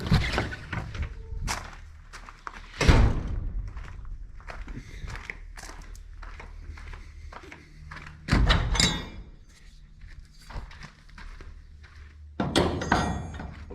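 Large doors of a farm shop rumble along their tracks and bang shut a few times, with footsteps and scattered knocks between the heavy slams.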